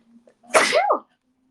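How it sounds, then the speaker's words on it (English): A single sharp sneeze, close and brief, preceded by a faint intake of breath in an otherwise quiet room. "oh, I have to sneeze"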